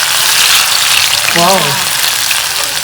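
Onion frying in hot oil, a steady loud sizzle that runs throughout with a brief stir partway through.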